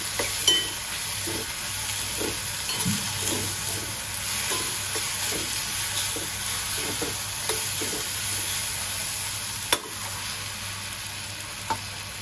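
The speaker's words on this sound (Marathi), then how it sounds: "तेल सुटेपर्यंत हे वाटण आपण छान परतून घेऊ." Spiced paste (vataan) frying in oil in a pan for traditional horse gram pithla, with a steady sizzle under repeated scraping stirs and a couple of sharper spoon knocks, close and alone.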